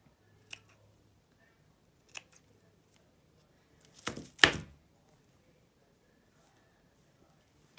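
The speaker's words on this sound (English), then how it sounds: "Just me and my scissors." Scissors snip quietly a few times in a still room while making a paper cone flower, with one louder, longer cut near the end.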